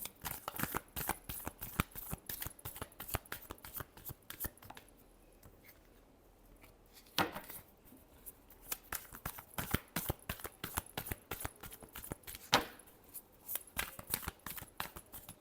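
Tarot cards being shuffled by hand in quick, crisp riffling bursts with brief pauses between handfuls, close up and fairly quiet, no voices.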